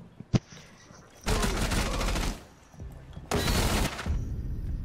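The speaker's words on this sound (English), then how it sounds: "Shoot through that wall." Rapid automatic gunfire through a barricaded wall in Rainbow Six Siege, with a sharp single shot followed by two sustained loud bursts separated by a short pause.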